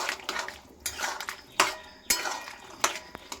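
A spoon stirs chilies into a pumpkin, potato and chickpea curry in a pan, with quick scraping strokes and a few sharp metallic clinks against the pan, close and moderately loud.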